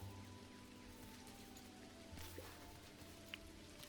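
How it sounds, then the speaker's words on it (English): Soft, steady rain patters in the video game Dinkum, a quiet continuous hiss with faint droplet taps and a low hum underneath, no voices. "It has started raining in the game."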